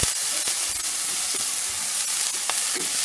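Chopped onions with curry leaves and green chili frying in a pan, a close, steady sizzle with scattered crackles and occasional stirring scrapes.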